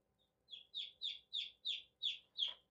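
A young chicken chick gives six bright, evenly spaced cheeps over about two seconds, each a short rising-falling peep, close and clear against a quiet background, the last one slightly harsher.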